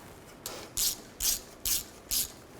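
Ratchet wrench tightening a bolt on the rear brake backing plate of a 2000-2006 Chevy Tahoe, four crisp clicking pulls in an even rhythm, close and clear with no talking.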